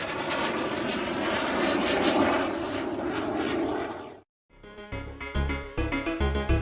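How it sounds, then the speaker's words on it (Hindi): A fighter jet roars loudly overhead with a broad, rushing engine blast lasting about four seconds, then cuts off abruptly before a burst of plucked, rhythmic music takes over. "उन्हें जेट विमान की आवाज आ रही थी।"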